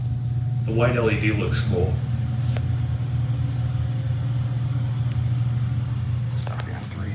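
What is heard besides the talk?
Otis hydraulic elevator motor rumbling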